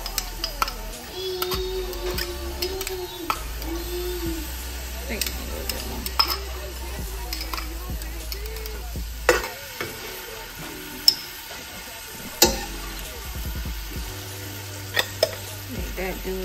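Butter and minced garlic sizzling in a pan, stirred with a utensil that scrapes and clicks against the pan now and then, over a continuous low hiss, with a voice in the background.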